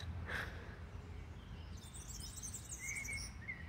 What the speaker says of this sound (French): Quelqu'un pourrait peut-être me dire ce que c'est comme oiseau.